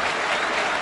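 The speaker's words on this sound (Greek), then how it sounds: "ολόθερμο χειροκρότημα από τους οπαδούς του Πανιωνίου παίρνει η ομάδα της Νέας Σμύρνης" Warm applause from Panionios football fans filling the stadium, a steady dense clapping wash throughout, moderately loud and even.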